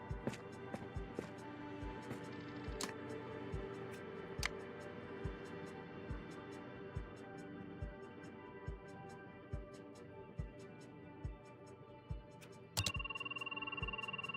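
In a video game, a telephone rings with a faint repeating electronic tone under steady ambient hum and periodic ticks, then a brighter sustained tone cuts in near the end.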